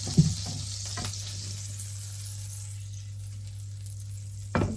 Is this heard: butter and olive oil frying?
yes